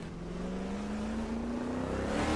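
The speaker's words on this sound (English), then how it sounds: "You can hear the tires start to slip as the car rotates itself under pressure." Engine of a 1970s Camaro Trans-Am race car in a racing video game, with a steady rising engine tone under load as the car rotates at speed; tire slip is not distinct, no talking.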